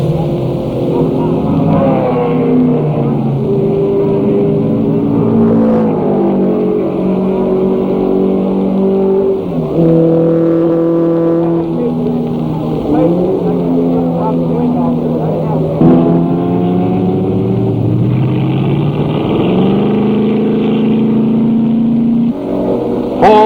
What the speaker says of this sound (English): The Piper Maggs Ferrari pits for gas and a driver change.